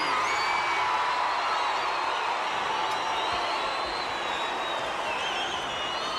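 Crowd at a Boston Garden professional wrestling event, a continuous wash of applause and cheering with scattered whoops, steady and fairly loud throughout with no voices standing out.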